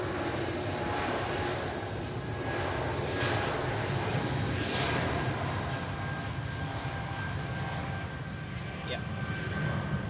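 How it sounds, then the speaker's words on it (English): A Stuttgart-bound airliner takes off from Zurich, its engines producing a sustained loud roar with a faint high whine running through it; a person briefly says a word over the noise. "And now the Stuttgart flight departs"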